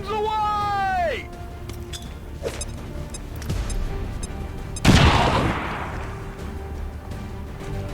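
A grenade explosion in the XCOM 2 video game, a sudden loud blast with a long crackling rumble that fades over several seconds, following earlier game effects and a rising whistle-like tone.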